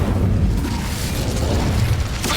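Incendio fire spell in Hogwarts Legacy: a loud, sustained booming roar of flame, dense and rumbling throughout with a brief burst near the end, heard alone without talk.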